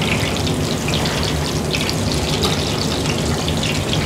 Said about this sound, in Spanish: realmente es como si fuera una cocción en aceite de oliva